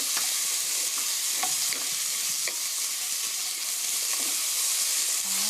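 Onion, garlic and pork for a Korean pork stew are stirred and fried in a pan, giving a constant bright sizzle with occasional scraping clicks of the spatula, close and steady with no talking.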